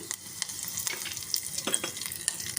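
Dried red chillies fry in hot oil in a pan for tomato rasam, a close steady sizzle with scattered pops and soft scrapes of a spoon stirring, no talk.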